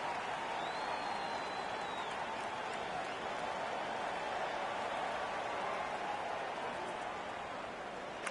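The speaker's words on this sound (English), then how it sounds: "The home crowd is pretty pumped with that one." Home crowd in the NHL 16 hockey video game cheering during an all-star game, a steady, fairly faint wash of roaring crowd noise with no breaks.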